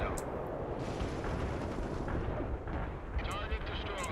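Rumbling air strike explosions and gunfire in World in Conflict, a dense, continuous barrage of booms and crackles with sharper hits near the end, moderately loud throughout.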